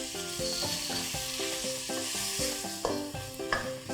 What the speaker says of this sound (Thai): พอไข่เริ่มสุกนะคะก็เอาผสมกับเส้นค่ะตักเส้นลงมาโอเคแล้วก็ผัดรวมกันเลย